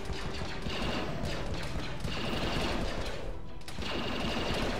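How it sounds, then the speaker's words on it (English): Rapid blaster fire from clone troopers in the Star Wars mod of Arma 3 crackles in dense, continuous bursts, loud and mechanical, with a brief thinning just before a fresh volley. "You can see their blaster fire as well"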